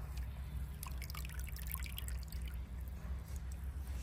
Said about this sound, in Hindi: ये फर्स्ट कोटिंग करके फिर इसको उठा के पानी में डिप करेंगे